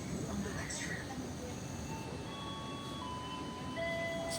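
Steady rumble and rattle of the Gaya Baru Malam Selatan train's restaurant car in motion, a continuous close rolling drone with faint tonal whines, no clear talk.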